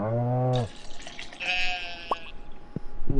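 Sheep bleating in the farming game Stardew Valley, with a short bleat near the start and another at the end, separated by softer game chimes and a couple of brief drip-like blips.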